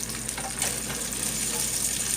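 Stew ingredients fry and brown in a pot, giving a steady close sizzle with soft stirring scrapes throughout.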